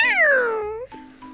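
A person imitates a cat's meow with their voice, a drawn-out falling raspy meow up close, followed by a brief quieter vocal murmur.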